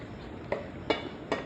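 Utensil scraping and clinking in a pot while peeled shrimp are stirred into a mixture, three short distinct knocks spaced about half a second apart over a quiet background.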